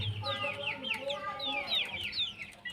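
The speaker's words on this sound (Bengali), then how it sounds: "মুরগি" Fayoumi hens on a poultry farm cluck repeatedly in short, choppy bursts, fairly close and steady throughout, with faint low background noise.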